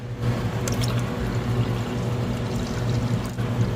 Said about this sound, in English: We just use that empty coolant to put water in